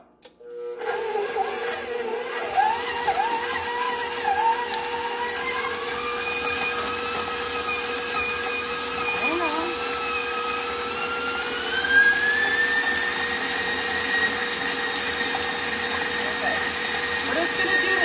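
A stand mixer called Big Red creams butter and shortening together, a steady loud motor whir running throughout that rises in pitch partway through, with voices talking over it.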